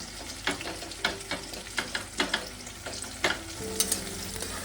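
Onions frying in oil toward brown beresta, a continuous close sizzle broken by regular scraping stirs of a spatula against the pan, roughly one stroke per half second.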